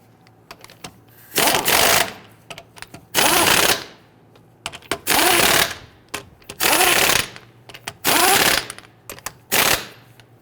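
Impact wrench running lug nuts onto a 2011-2023 Dodge Charger rear wheel in six loud, close bursts of rapid hammering, each lasting about a second, with short quiet gaps between them.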